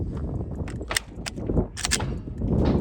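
A new Glock 47 pistol firing at a range, a few sharp close shots with short gaps between them, loud and alone with no talking.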